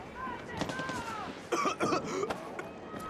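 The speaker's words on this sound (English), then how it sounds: "Why the fuck am I coughing?" A few short, harsh coughs from a character in Far Cry 6 come in a quick cluster near the middle, over a faint background with a little voice nearby.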